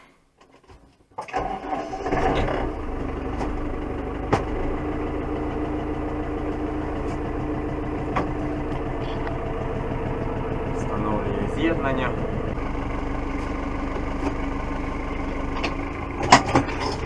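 A farm tractor engine cranks and starts, then settles into a steady loud idle with a continuous low rumble and rattling, while someone talks over it in the foreground.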